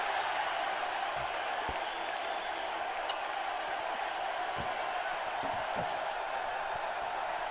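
Dense video-game wrestling crowd noise from WWE 2K17 during a singles match, a steady roar of booing spectators that holds through the whole stretch, with a few faint thuds from the ring beneath it.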